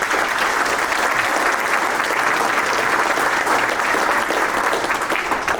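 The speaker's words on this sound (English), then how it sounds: "So big round of applause from me as well." Audience applause follows a conference presentation on liquid hydrogen production and storage: a dense, sustained burst of many hands clapping, loud and continuous throughout.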